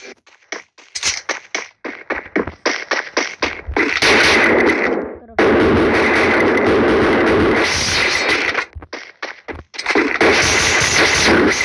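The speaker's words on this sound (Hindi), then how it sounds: "गोली की आवाज आ रही है" Dense bursts of gunfire from a mobile battle-royale shooter match, with sharp rapid cracks early on, then long sustained loud volleys of automatic fire and explosions filling most of the clip, briefly broken by pauses.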